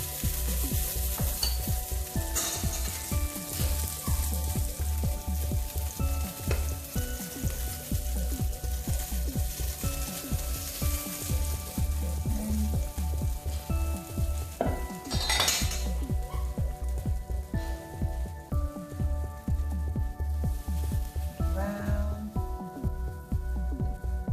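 A crepe sizzling in a buttered skillet, a steady close frying hiss running throughout with occasional utensil clinks and scrapes against the pan.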